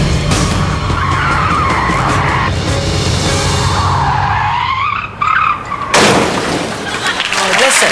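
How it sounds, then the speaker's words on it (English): A car power-slides across an airport runway, its tyres skidding and engine roaring in a loud, sustained screech that briefly dips and then surges again as it straightens and speeds away, with voices talking over it. "The car power slides in, straightens up and zooms out maneuver."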